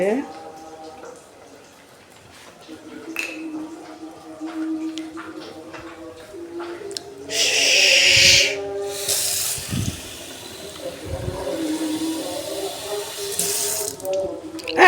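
Water is poured from a tap into a rohu fish curry with watermelon to make the gravy, giving a loud rushing splash midway and some hissing. A person talks through much of it.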